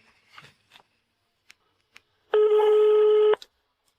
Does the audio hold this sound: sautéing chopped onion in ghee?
no